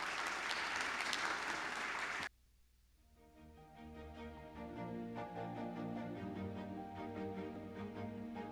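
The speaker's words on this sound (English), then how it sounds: "a big round of applause to thank our panelists today" An audience at a 2024 conference on the safe use of artificial intelligence gives dense, loud applause for the panelists, which cuts off abruptly after about two seconds as sustained music fades in.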